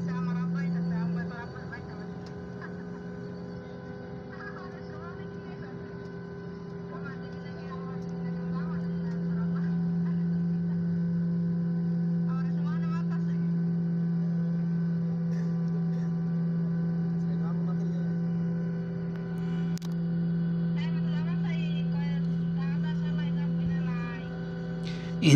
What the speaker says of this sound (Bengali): প্লেনটি চলতে শুরু করেছে।